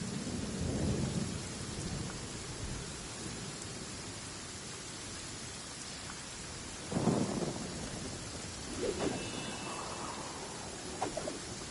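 Steady rain with rolling thunder in the video game Genshin Impact, a dense wash of rainfall throughout and a deep thunder rumble near the start, with louder cracks around the middle and later.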